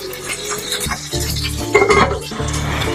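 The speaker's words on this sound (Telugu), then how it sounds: "ఇదైతే వేగనిద్దాం." Green chillies frying in a pan in a home kitchen, a steady close sizzle with occasional metallic clinks of a spoon stirring against the pan, no talk.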